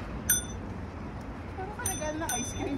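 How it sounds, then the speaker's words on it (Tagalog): A few quick, high metallic rings of a bicycle bell, brief dings scattered over a couple of seconds amid faint background noise. "Mag-bell ka daw."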